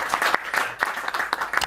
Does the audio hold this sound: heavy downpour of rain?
no